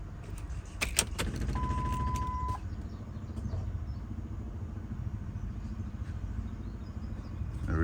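Electric fuel pump priming on a 2008 Ford F-250 Super Duty diesel after an engine swap, a low steady hum under a brief high whine and a few clicks and jangles at the start.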